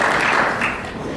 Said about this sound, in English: Okay, clap.